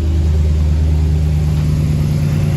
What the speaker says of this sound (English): we're gonna shut the engine off, and then we're gonna start it back up